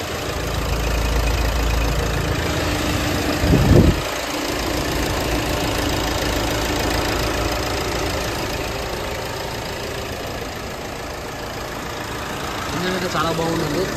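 A 2017 Hyundai Creta 1.6 SX+ with about 54,000 km on it idles with a steady, even mid-pitched hum, joined by a brief louder thump early on before settling back to a constant drone.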